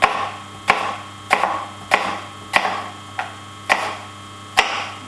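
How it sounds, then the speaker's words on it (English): A knife chops apples into thin slices on a board for vegan apple crumble bars, with about eight crisp, evenly spaced cuts over a steady low mains hum. "we're just going to start off by chopping the apples into really thin slices"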